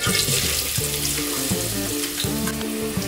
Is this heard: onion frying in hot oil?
yes